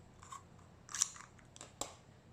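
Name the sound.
scissors set down on fabric as pattern weight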